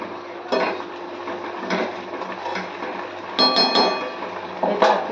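A metal lid set onto a cooking pot on a home stove, a few distinct clanks and clinks spaced across the clip over a steady low hum.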